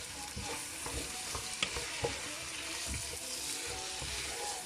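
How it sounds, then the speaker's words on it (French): Cabbage fries in a pan over high heat, sizzling steadily and close with repeated scraping and stirring strokes of a utensil. "On est en train de frire les choux."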